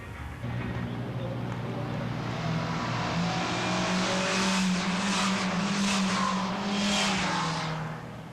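Formula Atlantic race cars roar past on the track during a five-lap media race at Westwood Motorsport Park in 1982, engines rising and falling as they approach and go by, loud and close.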